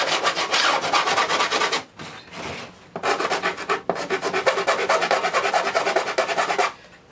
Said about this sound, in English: Now we just take a file and go around the edge,